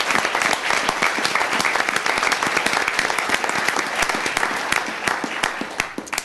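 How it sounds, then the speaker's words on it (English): A large room at a county commissioners court meeting breaks into a big round of applause, many hands clapping in a dense, sustained patter that stays fairly even for several seconds before thinning slightly. "And a big round of applause"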